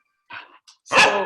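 A dog barks close by: a short yip, a faint blip, then a louder, fuller bark, heard during an online video call with no one talking over it.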